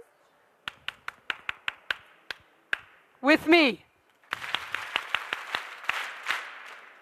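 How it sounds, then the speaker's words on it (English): Hands clap a rhythm pattern indoors: a sharp series of about nine claps, a brief spoken phrase, then a group answering with a denser, slightly ragged run of claps, close and fairly quiet. "Now, I want you to clap this pattern."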